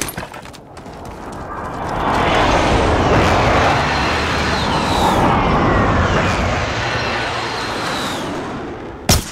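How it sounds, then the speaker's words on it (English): A friendly precision airstrike in Warzone Rebirth roars in as a jet sweeping overhead, swelling loud and broad for several seconds with rumbling blasts, then fading; faint talk beneath. "Be advised, friendly precision airstrike inbound."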